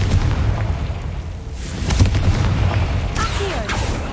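A fire spell explodes in a game set in the wizarding world, a series of deep rumbling booms and bursts rolling over a dense, noisy battle backdrop, with sharper crackling hits near the end.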